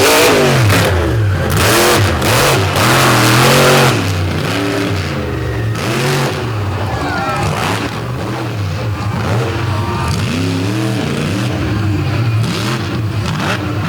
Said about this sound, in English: As Mr. Excitement, Jim Kohler in Avenger, rolls out to close out Freestyle